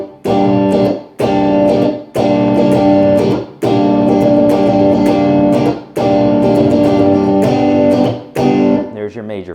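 A distorted electric guitar minor chord, fretted with the thumb, struck repeatedly in short bursts with brief gaps between, loud and close, ending in a ringing decay.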